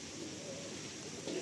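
A Madrasi pigeon gives soft, low cooing while being held, a faint close murmur over a steady background hum with no talk.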